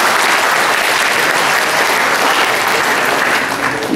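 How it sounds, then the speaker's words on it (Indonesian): An audience at a lecture on Indonesia's four national pillars bursts into sustained, dense clapping that stays loud and even throughout. "Nah, tepuk tangan dulu sekali lagi."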